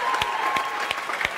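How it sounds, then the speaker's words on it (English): Audience applause with scattered cheers at a live EA Sports presentation event, a dense, steady clatter of clapping from a room crowd filling the short moment without speech. "Give them a cheer"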